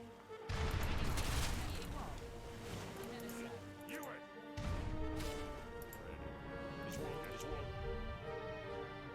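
Cannon fire booms out in heavy bursts, followed by rumbling explosions and lingering game sound effects with tonal music underneath.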